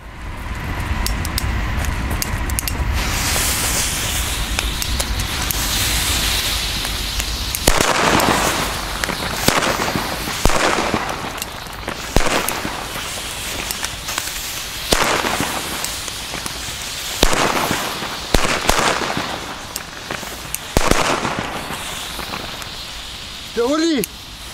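Firecrackers crackle and pop in a long dense burst, followed by a series of loud separate bangs with short pauses between them.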